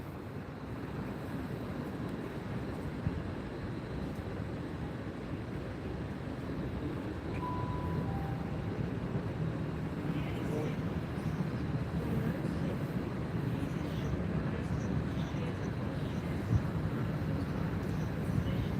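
A low, continuous rumble of a Great Western Railway Class 800 train departing Gloucester, steady and moderately distant, with a brief faint tone partway through.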